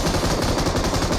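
A magazine is emptied in BGMI, rapid automatic gunfire in a dense, loud burst of closely spaced shots lasting about a second, with no voices.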